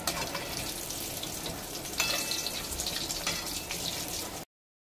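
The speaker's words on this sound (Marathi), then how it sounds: "मी तेलात टाकलेले आहेत, थोडेसे खालून सुटू द्यायचे, वडे म्हणजे चांगले फ्राई होतात" Mumbai-style vada fritters for vada pav deep-frying in hot oil, a loud dense continuous sizzle with a few sharper crackles and a spoon scraping, no voices.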